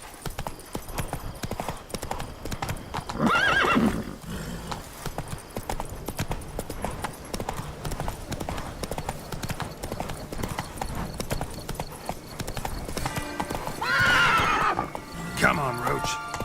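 Roach, a horse in The Witcher 3 game, gallops with loud, continuous hoofbeats. Two clear neighs ring out, one early and one late.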